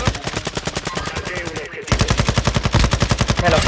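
Rapid automatic gunfire from the Call of Duty: Modern Warfare II video game rattles in a steady fast stream, pausing briefly and then resuming louder and heavier.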